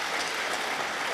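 Seminar audience at a tax association's autumn meeting applauding, a dense, steady wash of clapping that runs unbroken and fairly loud for just over a second, with no voices standing out.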